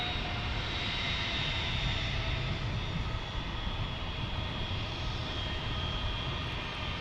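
A JetBlue airliner at San Diego International Airport starting its takeoff roll, its engines a steady, distant roar with a high whine riding over a broad rumble, fairly faint and holding even for the whole stretch.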